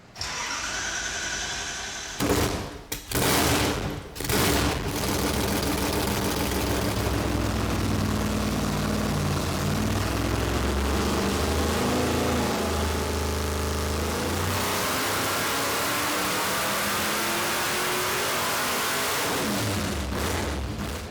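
A 1957 Glass Craft's engine revs hard and continuously on a hub dyno, a loud sustained roar with rising and falling harmonics after a few brief bursts at the start, tapering near the end.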